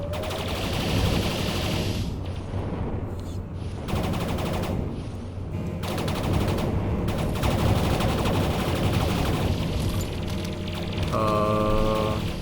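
Ship guns firing in the space video game Endless Sky, a dense, continuous rattle of rapid shots that stays loud and steady throughout, with a brief tonal beeping near the end.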